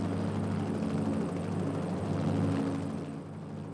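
A helicopter rotor and engine drone heavily and continuously, loud and close, at the London Olympic opening ceremony in the Olympic Stadium.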